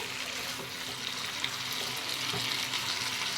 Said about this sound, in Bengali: আবারও আমি এটা ভালো করে নাড়িয়ে নেব।